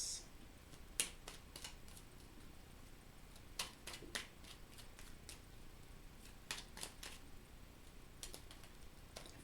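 Tarot cards being handled and shuffled, soft crisp clicks and riffling snaps scattered irregularly, quiet and close in an otherwise still room.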